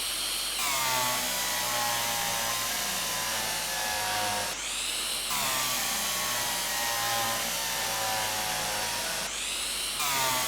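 A power drill in the Derail Valley train game bores into a locomotive body in two long bursts of high, steady whine. Each burst spins up sharply, and a short pause with a pitch change falls between them.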